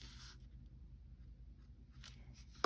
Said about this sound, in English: you can do a little bit of a mark here with your pencil.